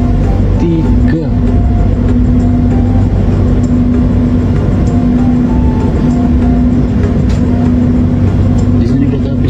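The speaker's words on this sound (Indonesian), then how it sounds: "kereta api Senja Utama Jogja masuk di stasiun Bekasi" Senja Utama Jogja train rolling into Bekasi station on track 3, a loud continuous rumble of wheels and engine with a steady hum throughout, heard close by.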